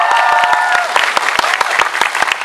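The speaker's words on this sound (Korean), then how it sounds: "축하의 박수 한번 드릴까요?" Audience applause in congratulation at a Korean film promotion event, steady dense clapping with sharp individual claps standing out, with a brief faint voice near the start.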